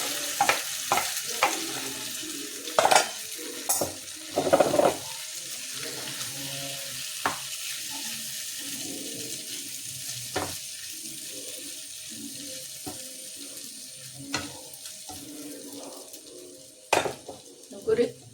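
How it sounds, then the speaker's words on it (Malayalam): Chicken pieces frying in hot oil in a home kitchen, a steady sizzle running throughout, broken by clanks of a utensil against the pan and occasional louder knocks. "അപ്പോൾ നമ്മൾ ബാക്കി ചിക്കനും കൂടി ഇട്ട് കൊടുക്കണേ വറക്കാനായിട്ട്"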